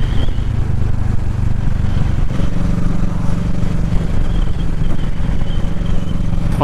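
A 2020 Kawasaki Ninja 650 motorcycle engine drones steadily while riding, a loud, low, continuous hum with wind rush and a slight shift in pitch partway through.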